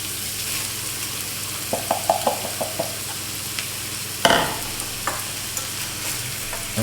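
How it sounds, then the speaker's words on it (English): Tomatoes sizzling in a pan of meat sauce with tomato paste, with steady frying hiss beneath a few light stirring scrapes and clinks, one sharper knock midway. "The next thing I will do is add the tomatoes."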